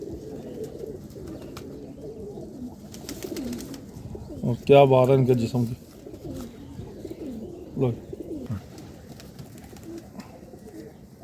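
Lal Pari pigeons coo softly in the background while someone talks over them, the cooing rising briefly in the middle.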